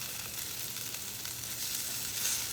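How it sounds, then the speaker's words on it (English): Philly cheesesteak meat and vegetables sizzle on a flat top griddle for a low-carb cheesesteak, giving a steady, fairly quiet frying hiss that continues alone without a break. "Then we're gonna go in with our Philly meat and veggies."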